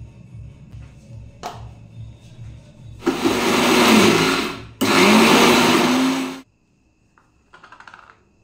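An electric mixer grinds soaked medu vada batter with water added, two loud sustained whirring bursts of about two and three seconds separated by a short pause, followed by a few faint clinks.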